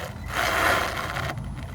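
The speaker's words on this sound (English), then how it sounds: "Full throttle and then it gives out" A small Rcawd TRX4M RC truck at full throttle loses traction, its tires scrubbing and grinding in a brief, rough, close rasp that swells and then drops away.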